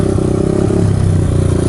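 A Honda XR200R dirt bike engine brakes while the rider grabs the front brake hard, its single-cylinder note loud and close in a steady, slightly uneven burbling drone with no talk over it.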